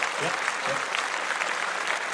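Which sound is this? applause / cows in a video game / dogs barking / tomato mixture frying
applause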